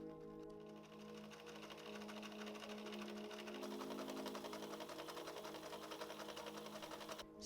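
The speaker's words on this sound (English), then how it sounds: "So I did my first ever sewing machine project" A sewing machine runs steadily on a first home sewing project, a dense continuous mechanical whir with a busy rhythmic stitching buzz that holds at a constant loud level throughout, with no talking.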